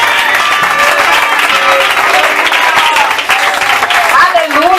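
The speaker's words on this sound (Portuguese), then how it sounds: "Aplaude o nome do Senhor em nome de Jesus." Church congregation applauding during a worship service anniversary celebration at Granja de Freitas, Belo Horizonte, a dense steady wash of clapping with voices singing or calling out over it throughout.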